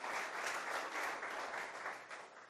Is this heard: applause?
yes